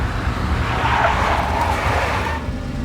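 Big black Mercedes skidding in the PC game Max Payne, a loud continuous tire squeal and engine roar with broadband noise, steady for about three seconds and heard alone without talk.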